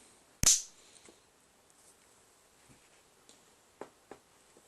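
A single loud, sharp electrical bang rings out as a Castle Creations speed controller (ESC) is plugged in, followed by a few faint scattered clicks and ticks in near silence.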